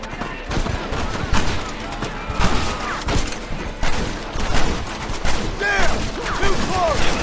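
Loud, dense gunfire in the Western video game Red Dead Redemption, rapid overlapping shots and bursts crackling continuously through a chaotic battle, with shouted voices mixed in.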